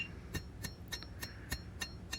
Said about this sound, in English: Now we're gonna start hammering our bevel in.